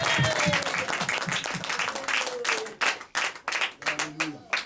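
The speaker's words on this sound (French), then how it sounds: "Let's cheer for Jesus." Church congregation clapping and cheering loudly for Jesus, dense sustained applause with voices mixed in, thinning toward the end into more separate claps, with speech over it.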